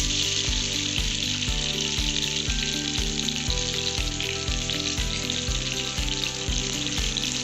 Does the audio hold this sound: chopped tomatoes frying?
yes